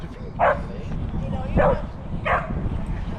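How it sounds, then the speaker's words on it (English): A dog gives three short yips or barks spaced about a second apart, moderately close, over a steady background of people talking. "Oh, look at that pupper."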